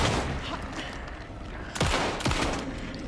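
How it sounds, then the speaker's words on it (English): Gunfire in the video game Alan Wake 2, a dense rapid volley of loud shots with two sharper blasts standing out near the end, over a busy game soundscape. "How many shots does this guy take?"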